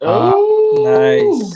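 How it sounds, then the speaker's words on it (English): A pet dog howls in a long, loud, sustained tone with rising and falling pitch, close to the microphone, as a voice briefly speaks over it. "That's my dog. That's my dog,"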